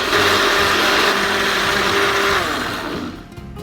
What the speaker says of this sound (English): It's nice to do it in a blender because the milk and the eggs all get nice and frothy